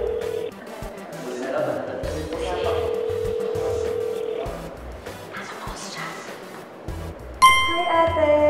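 Telephone ringback tones during an outgoing prank call, repeated tonal beeps over a hollow line hiss with sharper chimes near the end, heard under faint background voices.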